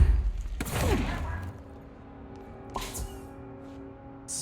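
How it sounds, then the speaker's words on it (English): Gunfire in the video game Control: a loud burst of shots up front, then a quieter single shot near the three-second mark over a low game ambience. "Alright, I'm gonna shoot you, okay?"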